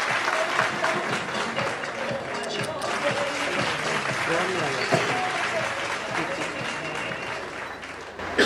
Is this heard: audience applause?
yes